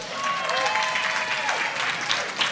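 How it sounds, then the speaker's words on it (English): Festival audience applauding at a closing-night film festival event, a steady, dense wash of clapping from a large crowd that holds evenly throughout with no pauses. "Look around, applaud yourselves."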